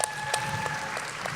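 A live podcast audience claps for a guest named Jamie at a recording about the Nain Rouge, a short burst of applause with a few sharper claps standing out.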